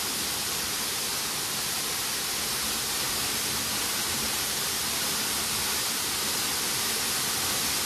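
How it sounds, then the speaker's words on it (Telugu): Water rushing steadily at a hidden waterfall along Lamsingi Road, a loud, continuous broadband roar that stays even throughout with no talking. "ఒక్క 10 సెకండ్స్ ఈ వాటర్ ఫ్లోనైతే వినుమావా"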